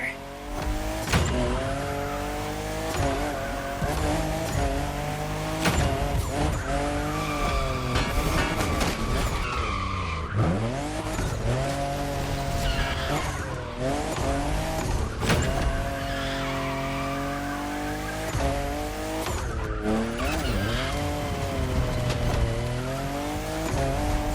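Toyota Supra, fifth generation, drifting in The Crew Motorfest video game: a loud, continuous engine roar with shifting revs and sustained tire squeal, mixed with music throughout.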